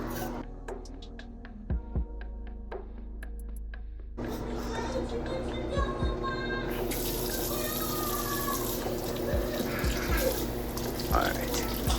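A kitchen tap runs steadily into a sink while carrots are washed and scraped, the flow growing fuller partway through, with a few clinks and handling noises.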